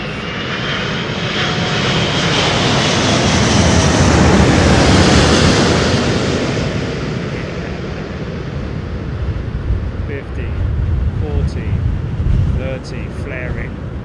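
An Emirates airliner landing at Heathrow roars loudly overhead, swelling to a peak and then fading into rumbling wind buffeting, with faint scattered sounds near the end.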